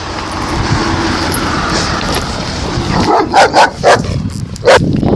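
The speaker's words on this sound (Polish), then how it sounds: "pies znowu" A dog barks several times in quick succession toward the end, fairly close, over a constant rumble of outdoor background noise.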